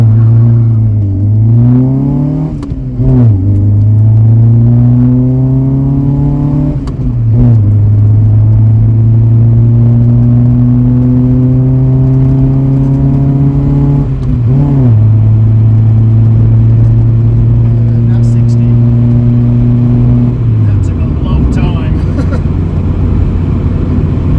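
A Talbot Horizon fitted with a bigger engine running on motorcycle carburettors accelerates through the gears, its loud, steady engine note climbing in pitch and dropping back at each shift, with brief dips between pulls and no talk.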